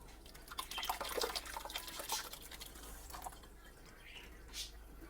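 Whey dripping from separated curds through cheesecloth for homemade organic feta, scattered soft droplet patters at close range with light splashy trickles, no talking.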